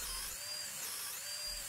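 A power drill with a 3/8 inch bit bores a bolt hole for a horizontal slat fence, a steady high whine running throughout at moderate level, with no talk.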